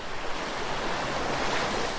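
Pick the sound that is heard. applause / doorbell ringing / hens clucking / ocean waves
ocean waves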